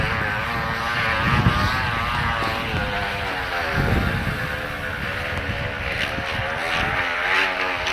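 A bicycle rattles along with a plastic water bottle flapping in its spokes, giving a steady, close, engine-like drone that swells and dips slightly with pedaling speed.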